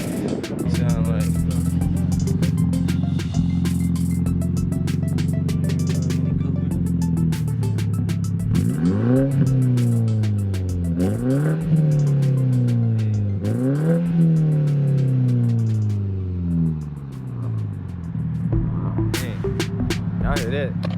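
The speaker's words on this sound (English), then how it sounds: "you would not think this little car get that loud, but that boy is loud" A small modified car with a cold air intake idles with a deep drone, then revs loudly in three sharp rising blips that fall back, close by, with people talking faintly around it.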